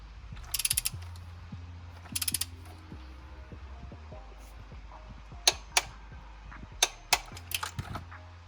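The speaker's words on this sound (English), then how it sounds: "you're going to take your torque wrench set to 17 foot-pounds. Then go ahead and torque all 6 spark plugs" A ratcheting torque wrench set to 17 foot-pounds tightens spark plugs in a single-turbo BMW 335i engine, giving close bursts of rapid ratchet clicks followed by several sharp, separate clicks.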